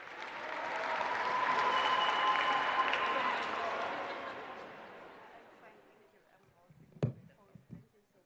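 Warm round of applause from an audience greeting a new chairperson at the Africa Netball Cup opening ceremony in Swakopmund, Namibia, swelling and then fading, followed by a few thumps on a microphone.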